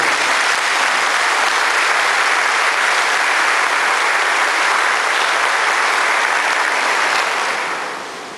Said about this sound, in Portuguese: Uma salva de palmas essa frase aí.